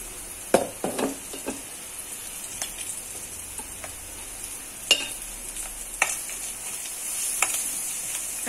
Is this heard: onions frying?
yes